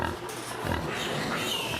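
Pigs at a large sow farm housing thousands of sows, a dense continuous barn din of grunting and squealing animals filling the whole stretch at steady loudness.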